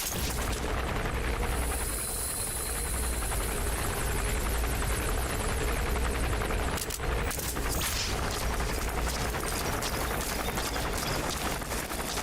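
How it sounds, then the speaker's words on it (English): An enemy gunship helicopter in the video game Metal Gear Solid thunders with a steady, loud rotor drone that fills the scene continuously, with a brief dip and some rattling noise partway through. "That's an enemy gunship."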